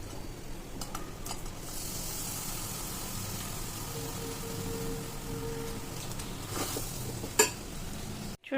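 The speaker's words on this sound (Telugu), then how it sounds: "ఈ బెల్లాన్ని పాన్లో వేసుకొని మంచిగా కలిపేటట్టు, ఉండొచ్చేటట్టు చూసుకుందాము" Jaggery being stirred in a pan for a purnam boorelu filling gives repeated scraping strokes over a soft sizzling bed. A sharper clack comes near the end.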